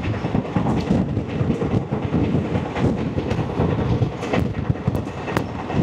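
A Vistadome train runs between Awantipora and Anantnag with a steady rumble and rattle, heard from inside the coach, loud and continuous with no talking.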